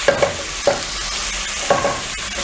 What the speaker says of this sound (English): So I'm going to wait for the onions to cook.